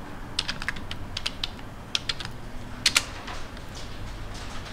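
Keystrokes on a computer keyboard as a title is typed, in uneven bursts of clicks with short pauses and a few louder taps, close and fairly quiet over a faint room hum.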